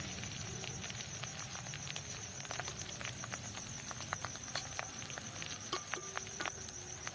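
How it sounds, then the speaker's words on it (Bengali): Fish roe fried slowly in oil over low heat on a rooftop, giving scattered sharp crackles and pops over a steady low hiss, with faint insect-like tones in the background. "এবার একটু নিবু আচা আস্তে করে ডিমটাকে ভেজে নিতে হবে"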